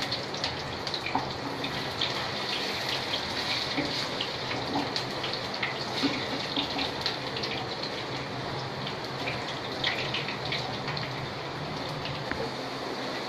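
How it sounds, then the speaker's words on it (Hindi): Potatoes fry in a pan for mutton curry, a steady, dense sizzle that runs unbroken at moderate loudness throughout, close up and with no talking. "इसको पूरा लाल करके अच्छे से फ्राई कर लेते हैं।"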